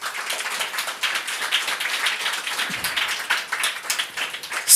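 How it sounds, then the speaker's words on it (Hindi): A congregation at a Hindi Christian church service claps loudly for the Lord. The claps are dense and rapid, merge into steady applause and carry on throughout with no talking. "जोर से ताली बजाओ प्रभु को"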